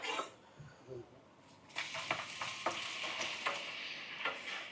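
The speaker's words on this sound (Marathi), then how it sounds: "तर हे पूर्ण ओनियन आता चांगला लाल झालेला आहे, परतलेला आहे. त्याच्यामध्ये आपण मटण टाकू." Marinated mutton dropped into fried onions for biryani, a loud hiss of sizzling with stirring scrapes against the pot, close up, after a few quiet moments of faint sounds.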